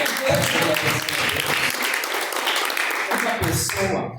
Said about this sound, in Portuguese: Palmas para louvar.